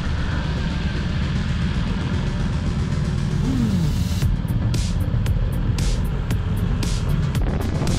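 A BMW S 1000 XR sport-touring motorcycle drones steadily on the road under rushing wind, with a brief rise in revs near the middle and no talking.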